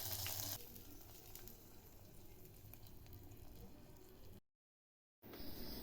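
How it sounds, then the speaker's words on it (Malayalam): Mustard seeds, curry leaves and dried chillies sizzle in hot oil for beetroot pachadi, a steady crackling fry with faint stirring, cut by a short silence near the end. "ഇനി നേരത്തെ എടുത്ത് വെച്ചിട്ടുള്ള കറിവേപ്പിലയും വറ്റൽമുളകും കൂടെ ആഡ് ചെയ്ത് കൊടുത്തിട്ട് നല്ല രീതിയിലൊന്ന് മൂപ്പിച്ചെടുക്കാം."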